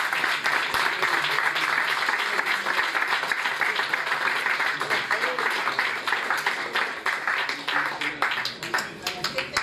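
Loud, sustained applause from a large crowd at a cultural event on the workers' movement, a continuous dense roar of clapping lasting nearly ten seconds and tapering slightly at the end.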